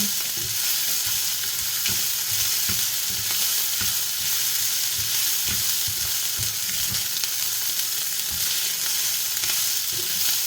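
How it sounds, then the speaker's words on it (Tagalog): Fried rice with roasted garlic and onion sizzles loudly in a hot pan, a continuous crackling fry broken by repeated scraping and tossing strokes as it is stirred, with no talking. "So, ito na yung mabilis nating pagluluto ng fried rice."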